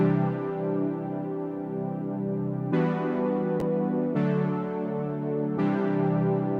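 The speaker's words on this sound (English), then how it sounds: "we're using a different preset called Chillin' Keys" A synth keys preset called Chillin' Keys in a sad trap pop production plays sustained, warm chords that change about every second and a half, clean and alone with no voices.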